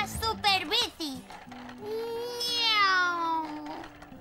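A cartoon cat character in a Spanish-dubbed Teletubbies episode gives a long, drawn-out meow after some quick chirpy voices, loud and close, likely voiced by a person imitating the cat.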